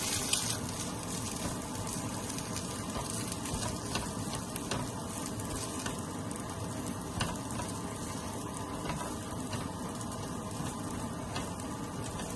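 Cooked rice for Chinese fried rice with pork and cucumber fries in a hot pan, giving a steady, dense sizzle and crackle with occasional stirring scrapes throughout, no voices.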